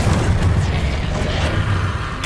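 Spell explosions in the game Hogwarts Legacy, a continuous heavy rumbling boom with crackling bursts, loud and sustained throughout without a break.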